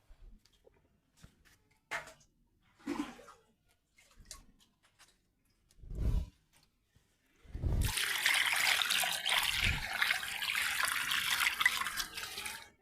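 Water taken from a drum is poured into a tank, a loud steady rushing pour that starts abruptly partway through and runs to the end, after a few faint knocks and handling sounds.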